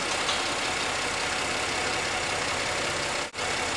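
A steady car engine idles close by during a repair check, a low even rumble with one brief dip near the end, no voices.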